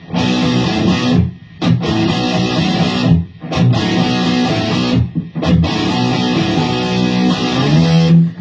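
Electric guitar power chords played palm-muted in a riff, chugging in loud, dense strums with two brief gaps where the chords cut off, alone with no talking.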